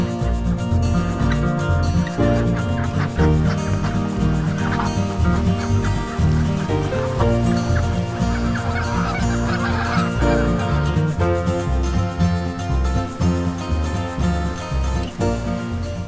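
Chickens, ducks and geese crowd together at an egg farm near Springfield on a misty October afternoon, with loud, constant honking and gobbling calls overlapping close by for the whole stretch, and no talking.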